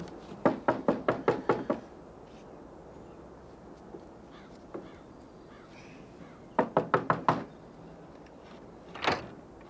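Knuckles rap on a door in a quick run of about seven sharp knocks, then silence, then a second run of about five knocks and one final lone knock, all fairly close.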